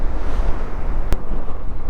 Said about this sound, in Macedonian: дува корни, не знам дали слушаате